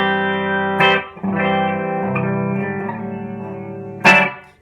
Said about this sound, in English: the sound you just heard is the Lovepedal Custom Effects Super Sic Tone